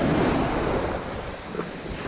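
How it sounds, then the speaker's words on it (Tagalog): Sea waves at Pinagkilatan beach in Batangas, a loud continuous wash of surf with wind buffeting the microphone, strongest at the start and then settling into a steady roar, with no voices. "Kaya lumalakas-lakas na yung alon."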